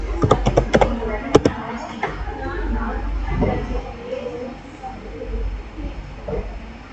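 A quick burst of close keystrokes is typed on a computer keyboard at the start, then softer scattered taps follow while someone speaks.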